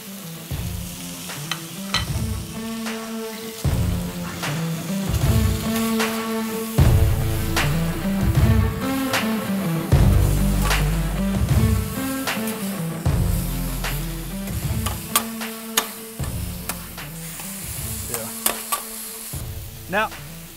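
Beef steak for a Philly cheesesteak frying in oil on a hot surface, giving a steady loud sizzle with repeated scraping and tool knocks throughout, and no talking.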